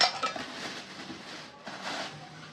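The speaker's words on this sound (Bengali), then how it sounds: "এখানে একটা চামচ।" A spoon among new steel and non-stick kitchenware gives faint, light clinks and clatters close by, a few soft metallic touches over a quiet room.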